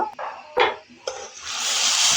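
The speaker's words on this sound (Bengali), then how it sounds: "এখন আমি এর মধ্যে পানি দিয়ে দিব।" Water poured into a pan of lentils frying for dal bhuna on a raised flame, a few sharp splashes followed by a loud, steady hiss and sizzle that builds and holds close by.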